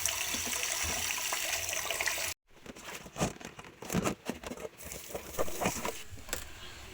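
Peeled sweet potato being rinsed in water, with a continuous rushing pour that cuts off abruptly, then splashing, sloshing and irregular handling noises of the potato in the water nearby.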